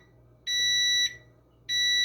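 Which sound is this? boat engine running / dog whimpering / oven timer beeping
oven timer beeping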